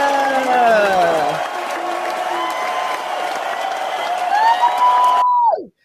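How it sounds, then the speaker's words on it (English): Women in an audience at a live queer comedy show cheer and whoop in high, rising cries over steady applause and crowd noise, loud and sustained before cutting off abruptly. "My favorite part is when the ladies say, woo! Like, yes, cheer us on, lady."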